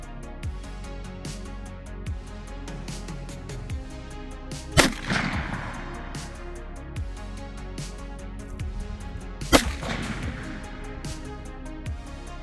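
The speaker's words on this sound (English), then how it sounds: "First time shooting, let's see how good I can do." Two loud, sharp rifle shots from a CVA Scout single-shot rifle chambered in 350 Legend go off several seconds apart outdoors, each followed by a decaying rumble, over a constant low background drone.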